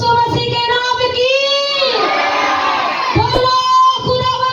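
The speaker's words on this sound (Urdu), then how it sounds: "سو ایک دفعہ بلند نعرہ لگائیں گے" A church congregation at an Urdu-language Christian sermon shouts a loud religious slogan in unison, a big crowd roar that swells and holds for a few seconds with cheering voices, close and loud, led by a woman's call.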